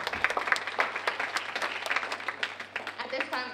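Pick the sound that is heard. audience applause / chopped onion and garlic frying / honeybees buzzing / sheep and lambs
audience applause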